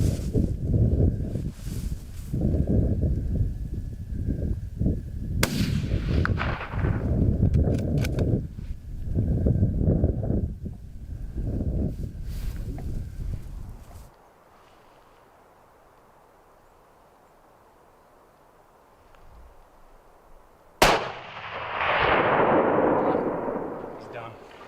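Hunting rifle gunshots fired outdoors during a big-game hunt, with a series of loud, rumbling booms and reports over the first half, a quiet pause, and then one more sharp crack that echoes away.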